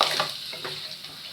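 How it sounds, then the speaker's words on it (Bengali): Crab pieces are poured into a pan of hot spices and sizzle, a short close burst of frying hiss with a stirring scrape. "আমি কাঁকড়াটা এবার ঢেলে দেবো"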